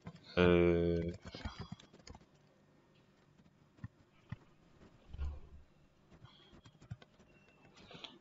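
Quick clusters of computer keyboard keystrokes tap out a username during account sign-up, scattered and close, following a brief burst of speech at the start.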